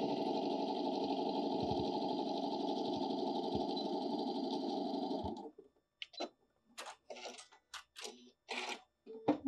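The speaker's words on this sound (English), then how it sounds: "you're just going to sew a quarter inch all the way across" A sewing machine runs steadily for about five seconds, stitching a quarter-inch seam across fabric with back tacks at the start and end, a loud, continuous mechanical whir that stops abruptly, followed by brief handling noises.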